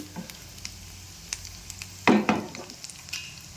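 Pistachios and other ingredients frying for sheer khurma, with a soft continuous sizzle marked by scattered ticks and a louder burst of scraping stirs midway.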